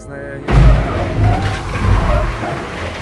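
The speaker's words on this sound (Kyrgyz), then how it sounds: "бир көзүрмемде эле кесилиштен чыккан чоң унаа тез жардам унаасын сүзүп кетет" Film effect of a large vehicle skidding at an intersection and crashing into an ambulance: a loud, sudden impact and screech that rumbles on as a rough, noisy skid.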